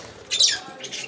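A pet parrot shut alone in its cage lets out two shrill, close squawks in quick succession.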